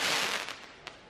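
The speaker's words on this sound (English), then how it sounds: "There's more fireworks." New Year's Eve fireworks bursting, a fading crackling rumble followed by a brief sharp pop near the end, heard at a distance with no talking.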